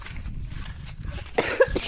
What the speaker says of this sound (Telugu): నాకేమో దగ్గు చేసింది